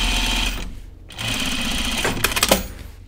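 A home sewing machine with a twin needle runs double-needle topstitching on jeans, a steady close motor whir with short pauses and a rapid burst of stitching near the end.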